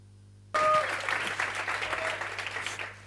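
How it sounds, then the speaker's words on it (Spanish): Audience applause breaking out at the start of a conference talk on ClickHouse database internals, a sudden dense burst of many hands clapping after a near-silent moment, sustained and fairly loud throughout. "Me encantan los aplausos al principio porque te da una moral de la hostia."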